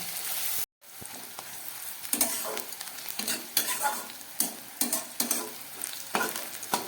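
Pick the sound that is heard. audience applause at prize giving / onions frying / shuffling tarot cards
onions frying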